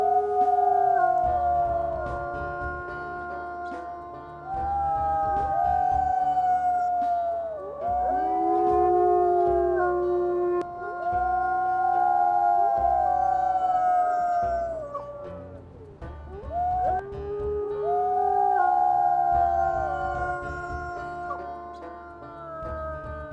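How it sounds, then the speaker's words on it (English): In a video game, several wolves howl together in long, overlapping, rising and falling wails that continue without a break, loud and close. "Let's go ahead and mark and howl while they are doing their thing."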